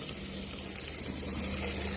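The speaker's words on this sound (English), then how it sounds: "you can see how the water just runs right through the top pipes into the two bottom pipes" Steady water rushes and gurgles through pipes, a constant hissing flow with no voices.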